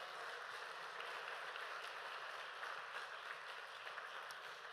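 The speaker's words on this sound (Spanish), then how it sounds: "Dele fuerte aplauso al Señor Jesucristo." Steady applause from a church congregation praising Jesus Christ during a Spanish-language sermon, a faint, even wash of clapping with no breaks, somewhat distant and without talk.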